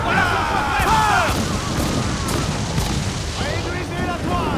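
Repeated booming cannon fire between sailing ships in Assassin's Creed IV Black Flag, loud and heavy, layered with whooshing streaks and busy game-like effects throughout.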